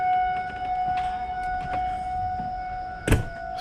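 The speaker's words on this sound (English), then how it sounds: "And now we got tornado sirens going here." A steady wailing tornado siren tone holds in the background during a tornado warning, fairly faint, with a single thump near the end.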